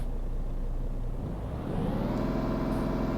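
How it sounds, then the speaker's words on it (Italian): Truck engine in Euro Truck Simulator 2 idling with a low rumble, then revving up as its pitch climbs and the sound grows fuller, with no voices over it. "Facciamogli sentire il rombo del motore."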